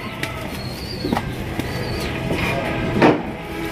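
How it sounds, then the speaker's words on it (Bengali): Large Shirazi pigeons for sale flap their wings in short bursts close by. Brief high calls and a faint coo sound over a constant background hum, with no talking. "মাত্র 2000 টাকায় বিশাল বড় সাইজ এই কবুতর জটি আপনারা নিতে পারবেন"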